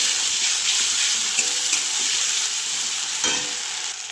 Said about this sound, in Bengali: এটাকেও ভালো করে মশলার সাথে মিশিয়ে নেব।